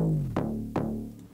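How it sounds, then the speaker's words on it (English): Music put through a BitSpeak bit-crushing plugin gives a gritty, distorted digital tone, with a few sharp, sweeping hits over a sustained note, fairly quiet and with no talking. "I also add this bit crushing plugin called BitSpeak, which adds this distorted effect character"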